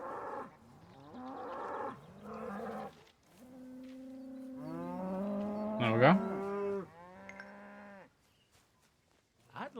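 Cows mooing in a Thomas & Friends video game set on Sodor: several long, close, loud moos in sequence, with a brief voice at the end.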